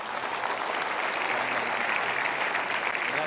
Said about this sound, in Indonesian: Boleh berikan tepuk tangan sekali lagi untuk Bapak Angga ya.